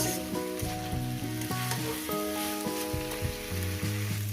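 Vegetables sizzle steadily in a pan of fish-head curry before the fish head goes in, a continuous close frying hiss with music playing over it.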